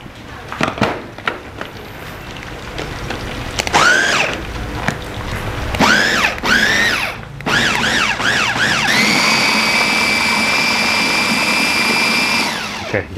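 Food processor chopping chilies for sambal balado in short whirring bursts that pulse up and down, then settle into one steady loud run to the end, with no talk over it.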